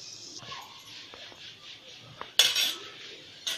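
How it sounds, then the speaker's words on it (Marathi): A knife cuts a steamed coriander leaf vadi into pieces with a few soft, sparse taps. One sharp, louder cut lands on the board partway through, followed by a fading scrape. "मी सगळे अशी कट करून घेते आता।"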